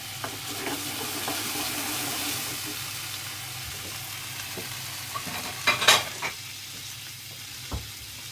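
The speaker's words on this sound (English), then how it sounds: "The lamb cutlets are nearly ready." Lamb cutlets sizzle in a pan with a constant, moderate frying hiss, broken by a few sharp clicks and scrapes from stirring or turning the meat.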